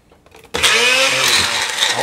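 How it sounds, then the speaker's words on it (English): A blender abruptly starts up and blitzes a leek tortellini filling, a loud, steady whirring roar that runs on after a brief quiet moment. "we're going to blend that up and blitz it so that it's nice and smooth"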